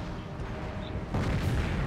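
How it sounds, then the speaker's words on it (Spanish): An explosion goes off in the Company of Heroes war video game: a broad, rumbling blast swells suddenly over steady battlefield noise and stays loud to the end. "A ver, escucho una explosión"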